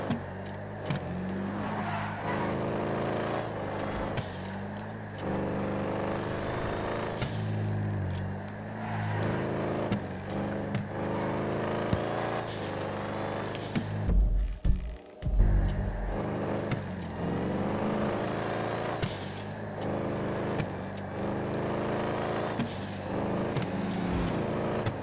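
A car drives through the Grand Theft Auto video game, its engine humming and shifting pitch steadily and continuously, with a brief dropout partway through.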